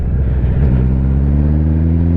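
Honda CBR650R motorcycle engine through a fumbled downshift on a road ride, a steady loud inline-four drone with rising and settling harmonic tones, wind-heavy and continuous throughout.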